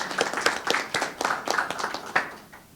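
A small audience claps briefly for the speakers after a lecture on leadership and entrepreneurship, scattered, sparse handclaps that fade out within a few seconds.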